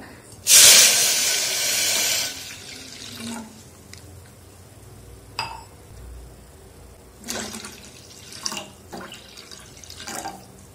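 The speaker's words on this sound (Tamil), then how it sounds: "நம்ம 3 டம்ளர் தண்ணி ஊற்றிருக்கோம்." Water poured into a pot of powdered nannari root for sarbath, a loud rushing splash in the first two seconds, then quieter intermittent trickles and splashes.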